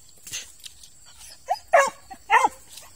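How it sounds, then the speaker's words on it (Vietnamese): A snake-hunting dog gives a few short barks and whimpers, moderately close, with quiet pauses between them. "tiếng sủa,"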